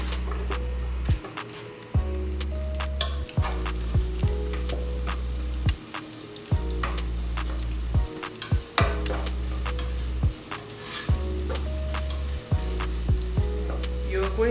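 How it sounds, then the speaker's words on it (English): Chopped shallots sizzle in hot canola oil, a steady frying hiss broken by repeated stirring scrapes and taps against the pan, with no talking. "You're going to fry up your onions or shallots until it is a light brown and also translucent."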